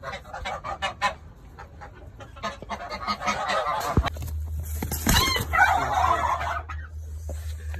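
Domestic geese honk and cackle repeatedly on a farm where they are kept for breeding and egg laying. Several loud, close calls overlap in irregular bursts over a low background hum.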